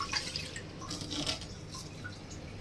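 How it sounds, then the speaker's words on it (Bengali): Rice is washed in water for khichuri, making faint sloshing and dripping sounds up close. The washing is quiet and intermittent, with no talk. "দুই তিনবার ধুয়ে নিয়ে যাতে চালের যে ময়লাটা যাতে চলে যায় আর কি।"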